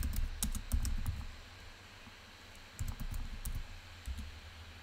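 Rapid clicks of typing on a computer keyboard, two bursts of keystrokes close to the microphone with a quiet pause between them.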